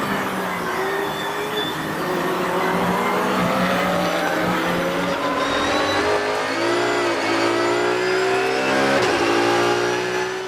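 Roscar race cars roar past on the Paul Ricard circuit, engines revving and shifting pitch, loud and continuous with overlapping motors.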